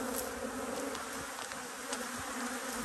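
Calm honey bees fill the spaces between frames in an open hive box, producing a continuous close, full buzzing hum that stays even from start to finish with no talk.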